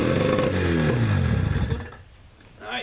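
A motorized surfboard engine, primed with starting fluid and throttle open, sputters into a loud revving run up close, then drops away before a brief rising rev at the end.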